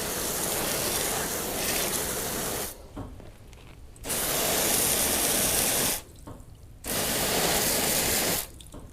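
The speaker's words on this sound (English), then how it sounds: "So I'm going to spray the tyres down." Broad water spray hitting car tyres in three long hissing bursts separated by short pauses, loud and close with no talking.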